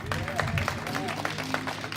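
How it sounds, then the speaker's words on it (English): A church congregation applauds during a Sunday pastoral day service, with steady clapping running throughout under a loud speaking voice. "Let's give them another round of applause."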